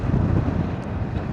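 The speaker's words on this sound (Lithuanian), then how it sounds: "Šiandien didelis vėjas." Strong gusty wind buffeting a microphone on a motorcycle ride, a dense low roaring rumble that stays loud and unbroken.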